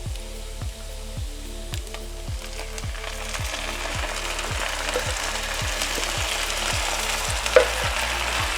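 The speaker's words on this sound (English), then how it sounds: "we're just going to stir that all together and let it simmer" Ketchup and canned beans are stirred together in a simmering pan, giving a steady close-up bubbling sizzle with a spoon scraping through the mixture in regular strokes, plus a brief sharp clink near the end; no talking.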